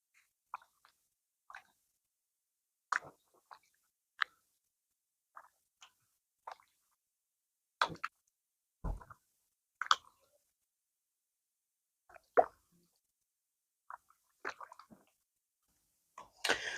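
Mutton biryani marinade being mixed by hand after vegetable oil goes in, soft wet squelches and squishes in short scattered bursts with quiet gaps between them, close and faint, with no talking.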